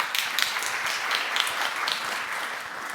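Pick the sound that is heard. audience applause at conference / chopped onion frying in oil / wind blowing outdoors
audience applause at conference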